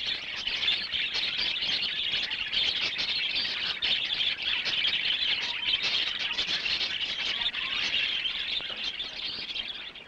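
Budgerigars chirp and twitter constantly as a dense, bright flock, with no pauses in the continuous chatter and no voices present.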